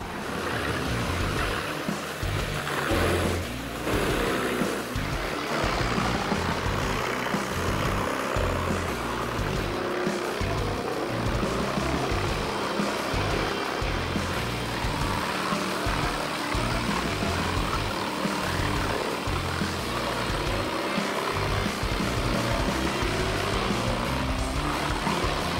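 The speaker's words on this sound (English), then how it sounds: "using high-capacity Gen's 820 wood chipper machines is extremely necessary" A high-capacity Gen's 820 wood chipper runs with a loud, steady mechanical roar and heavy low rumble throughout, its drone broken only by occasional grinding surges.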